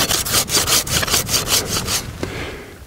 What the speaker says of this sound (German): den Ast, den man sägt, immer leicht mit der anderen Hand von der Klinge wegzudrücken, dann sägt sich's gleich viel, viel einfacher.